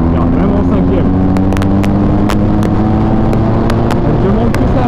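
A BMW R 1250 GS Adventure motorcycle cruises in fifth gear, its engine giving a loud, steady drone mixed with road and wind rush that runs unbroken throughout.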